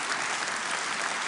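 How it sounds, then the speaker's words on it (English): A short burst of steady, dense applause from the audience at the Ukraine Recovery Conference in Gdansk, even in level throughout. "Applause."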